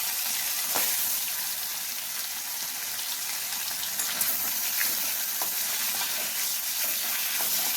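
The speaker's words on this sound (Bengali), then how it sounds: "তেল যখন ভালো গরম হয়ে গেছে, গ্যাসের আঁচটা একটু কমিয়ে দিয়ে মাছগুলো আমি তেলের মধ্যে সাবধানে দিয়ে দিচ্ছি" Fish frying in hot mustard oil in a wok over a lowered gas flame, a steady close crackling sizzle with scattered pops that runs unbroken throughout, no voices.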